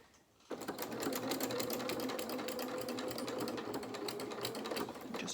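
Close, steady mechanical whir of a sewing machine stitching fabric for a small doll's dungarees, starting abruptly after a quiet moment and running continuously at an even pace.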